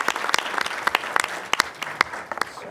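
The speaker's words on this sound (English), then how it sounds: "a round of applause" Audience applause at a school district board meeting, a steady patter of many hands clapping with sharp individual claps standing out, fairly close and continuous, no speech over it.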